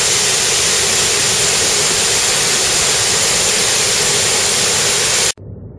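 Tat Ton waterfall in Tat Ton National Park, Chaiyaphum, roars as a loud, steady, close rush of falling water, a constant broadband hiss that cuts off abruptly near the end.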